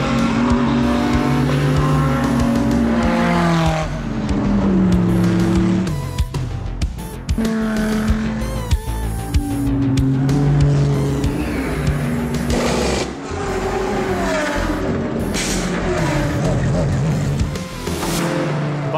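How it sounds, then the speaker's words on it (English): More than 30 Honda cars lap a race track together, their engines a dense, continuous roar of overlapping motors rising and falling as they pass, with a voice speaking over the noise throughout. "now we have over 30 cars who will make a lap of the track"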